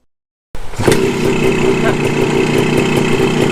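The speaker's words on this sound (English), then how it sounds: "Once I fixed that, the engine actually ran much better, sounded different, and I was able to take it on a real test ride." A restored Honda MT250 Elsinore motorcycle engine starts up after silence and settles into a steady, close, throbbing idle with a firm mechanical beat.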